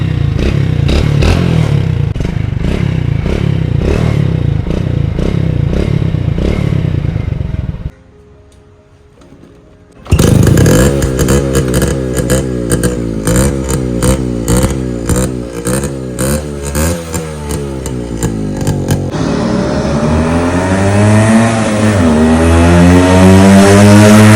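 A used motorcycle engine at a garage in Kerala runs with a steady rumble, cuts out briefly, then restarts and revs repeatedly in rising and falling bursts, loud and close.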